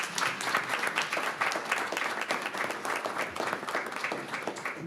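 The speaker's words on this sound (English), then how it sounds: "Well, let's give them a round of applause." At a city commission meeting, a roomful of people gives sustained applause, dense and steady for the whole stretch, with no voices over it.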